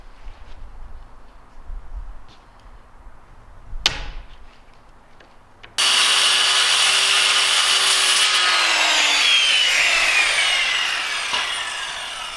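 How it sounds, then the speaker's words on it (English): Power saw cutting through a sheet of plywood for a skate kicker ramp: a loud, steady, close cutting roar that starts abruptly after a few seconds of quiet handling noise and holds to the end. "So now it's time to cut our next piece of plywood."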